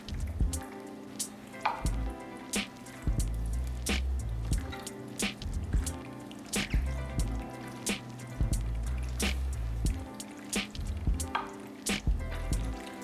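Penne pasta is stirred into a creamy baked feta sauce, giving close, wet squelching and dripping sounds in an irregular rhythm of scoops and folds, with no voices.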